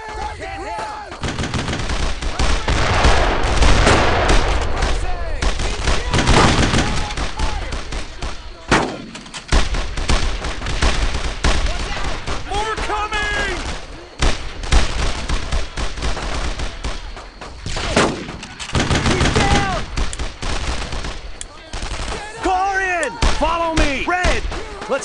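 Dense, continuous gunfire and machine-gun bursts with heavy impacts fill a World War II battle in the video game Brothers in Arms: Road to Hill 30, loud and close, with brief shouted voices over the shooting.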